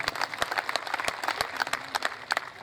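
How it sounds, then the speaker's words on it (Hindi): Audience applause at an outdoor Hindi kavi sammelan poetry gathering during the Shekhawati festival, brisk distinct claps from a modest crowd, loud and close, continuing without pause. "तो बहन अनु शर्मा जी तक भी आपकी जोरदार तालियां पहुंचे"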